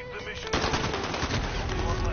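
Rapid automatic gunfire in the video game Call of Duty, a dense continuous burst of loud shots rattling without pause for about two seconds, with a faint voice underneath.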